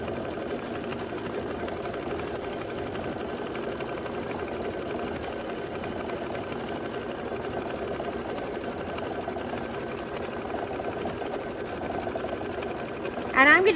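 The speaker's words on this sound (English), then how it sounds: "And let it do its quilting. This is going to be 4 minutes of quilting." An embroidery machine quilts a Kimberbell Cuties April table topper with a steady, moderately loud mechanical hum and rapid stitching, ending in a brief handling clatter.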